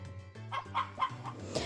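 Chickens cluck in the Harvest Moon farming video game, a short run of soft, repeated clucks over a steady low background tone with no talking.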